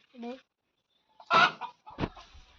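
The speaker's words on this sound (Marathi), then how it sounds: "हे सगळे कोंबड्या आहेत" Chickens cluck close by in a few short, separate bursts, with quiet gaps between the calls.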